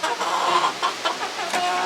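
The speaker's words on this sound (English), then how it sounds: "Who's the biggest, fattest chicken?" Backyard chickens clucking and squawking continuously up close, a busy overlapping chatter of hens with no talking.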